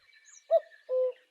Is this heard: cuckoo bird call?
yes